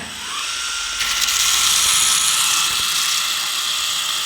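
Ryobi belt file sander working small surfaces, a steady close high-pitched whine with gritty abrasive hiss that grows slightly stronger after the first second and holds constant.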